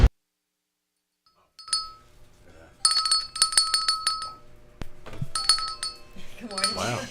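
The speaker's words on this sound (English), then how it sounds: "I don't know why he rings the bell" A hand bell rings on a morning radio show in several quick jangling bursts after a moment of silence, close and bright, with brief voices in between.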